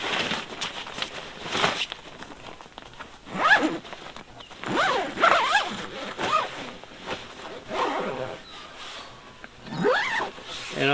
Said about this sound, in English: zip that back up again